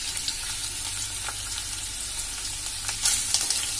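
Chopped onion fries in a generous amount of oil in a pan, giving a steady, dense sizzle with scattered crackles and a few louder pops near the end, close and continuous with no talking.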